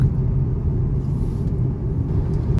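A car drives along a clear road, giving a steady low rumble of engine and tyres from inside the cabin, loud and unbroken with no talk.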